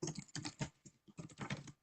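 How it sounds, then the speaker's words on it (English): Fast typing on a computer keyboard during a programming lecture, a quiet, close clatter of rapid keystrokes in quick bursts with brief pauses, no talking over it. "who's typing, by the way? It's really fast."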